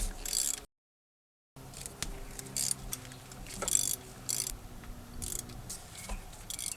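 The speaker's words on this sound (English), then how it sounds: "I'm just going to use this Milwaukee ratchet to take this off." A Milwaukee M12 extended reach ratchet loosening water pump bolts on a Dodge Durango 4.7L V8, quick runs of ticking pawl clicks in short bursts, close and quiet, with no talking.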